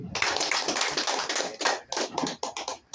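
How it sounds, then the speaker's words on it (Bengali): Applause from an audience at a district committee appointment ceremony, dense overlapping hand claps that fill the clip, loud and close, then thin out into scattered claps near the end. "সবাই হাততালি দেন।"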